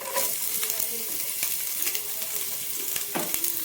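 Chopped onion and green chili fry with ginger and garlic in a pan, giving a close, constant sizzle with frequent scraping stirs and clinks, no talking.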